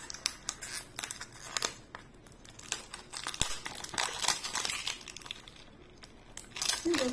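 Plastic sheet wrapping on a makeup fixer being cut and pulled off, a string of sharp snips and crinkling rustles close to the microphone, with no speech.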